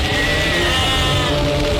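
A billy goat bleats loudly and close, a continuous wavering cry filling the moment with no one speaking.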